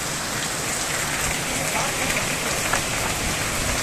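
A sudden heavy downpour hisses steadily and densely, close and loud, with wind in the trees and a storm overhead, unbroken for the whole stretch.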